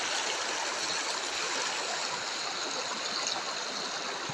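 Clear water flowing in a rural stream, a steady close rushing and babbling wash with no breaks, moderately loud and alone.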